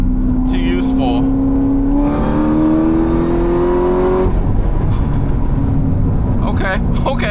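A Corvette ZR1 accelerating hard in third gear, its engine roaring loud and close with a rising pitch over several seconds before the note breaks off, and voices talking over it near the end.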